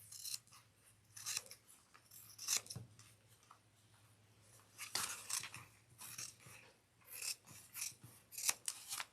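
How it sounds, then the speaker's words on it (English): Scissors snip through a fabric seam allowance in a series of close, crisp cuts with short pauses between them, quiet and without talk. "we're going to trim the seam allowance to 1/8 of an inch"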